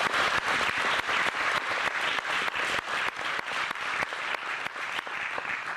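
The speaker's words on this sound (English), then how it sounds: "Shall we give her a round of applause?" An audience at a local youth pageant breaks into loud, dense applause, many hands clapping steadily and evenly for several seconds with no voices over it.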